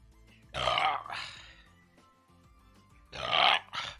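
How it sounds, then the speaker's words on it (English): Two loud, drawn-out burps from a person whose mouth is tingling after eating something very spicy, each one rough and guttural and followed by a shorter gulp, separated by a quieter stretch of breathy background. "Burps are good. Burps are fine."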